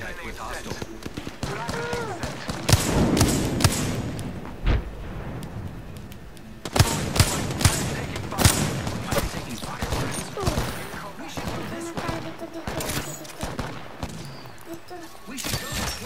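Gunfire in the video game Pathfinder: bursts of rapid shots and impacts crackle close by in clustered volleys, with a pause midway before heavier firing resumes, mixed with game sounds.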